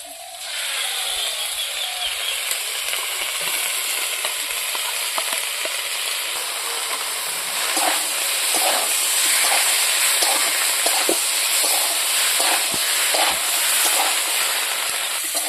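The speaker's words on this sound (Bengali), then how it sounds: "এখন আমি পেস্ট করা মশলাটা দিয়ে দেব।" Cauliflower and potato pieces frying in a pan with ground spice paste, a steady loud sizzle with scattered crackles and stirring clicks, no talking.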